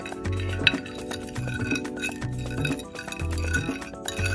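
Oil and marinade for ahi tuna being mixed in a baking dish, with repeated light clinks and scrapes of a utensil against the dish in a loose rhythm, close and clear.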